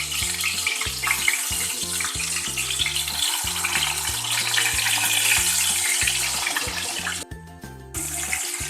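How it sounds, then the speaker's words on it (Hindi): Tomatoes fry in oil in a pan over a low flame, giving a steady, continuous sizzle that runs throughout with background music. "ये टमाटरों को हम लोग फ्राई भी करेंगे।"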